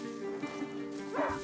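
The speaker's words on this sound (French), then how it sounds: "Un chien de chasse !" Hunting dog barking and yipping in the video game A Plague Tale: Innocence, a few short yelps over a steady musical drone, moderately close.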